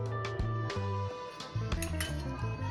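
A cake tin holding white batter for a zebra marble cake being shaken, giving repeated close metallic clinks and rattles in quick irregular bursts.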